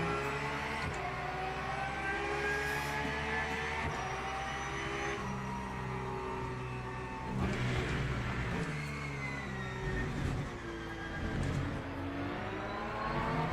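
An LMP3 race car engine in a racing video game, sprint round at Imola, drones and whines steadily with rising and falling pitch through gear changes and surges, loud and continuous.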